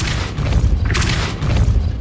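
A Depulso force spell cast in Hogwarts Legacy lands as a loud, booming impact with a few heavy thuds and crashes over about two seconds, alone without speech.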